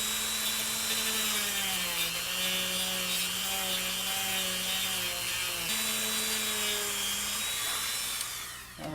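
A coarse sanding drum on a rotary tool grinds against a plastic Revell Star Wars AT-AT Imperial Walker model kit part, a steady loud motor whine with rubbing abrasion that dips briefly mid-way and cuts off near the end.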